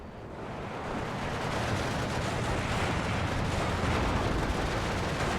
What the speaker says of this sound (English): So this mortar's going to start shooting